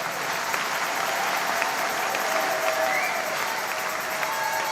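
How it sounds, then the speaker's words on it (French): Church congregation applauding during a Sunday service, loud continuous clapping from a large crowd with a few cheers mixed in, steady throughout and close. "Des acclamations."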